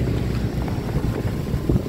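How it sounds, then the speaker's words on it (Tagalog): Strong wind from the aftermath of Super Typhoon Uwan roars and buffets the microphone in a steady, continuous low rumble, with no voices. "Malakas pa po ang hangin"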